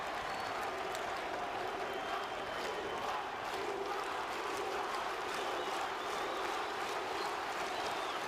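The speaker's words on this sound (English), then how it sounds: "You hear the crowd." A crowd at a FIBA Basketball World Cup game between Cuba and Argentina cheers and roars as a continuous, distant wash of noise, with no one speaking over it.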